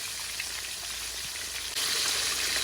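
Pork chops frying in oil, a continuous crackling sizzle up close that jumps a little louder partway through and stays steady, no talk.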